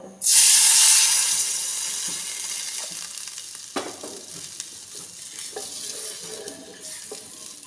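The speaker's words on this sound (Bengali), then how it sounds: "এবার আমি সুজি অনুযায়ী আমি দিয়ে দেবো জল" Water poured into lightly roasted semolina in a hot pan erupts in a loud, sudden burst of hissing steam and sizzle, then settles into a steady bubbling simmer with occasional stirring clinks and scrapes.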